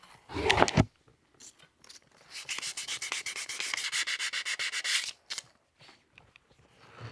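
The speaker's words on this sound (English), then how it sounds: "keep sanding." Close, rhythmic rasping strokes of 240-grit sandpaper on a turned hybrid wood-and-resin pizza cutter blank, a quick scrub first, then a steady run of rapid back-and-forth passes before stopping.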